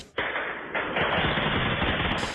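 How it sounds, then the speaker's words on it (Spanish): Gunfire at night in Mexico amid unrest, a dense continuous burst of rapid shots, loud and harsh, running throughout with no talk. "Videos compartidos por usuarios muestran a gente realizando disparos hasta la madrugada."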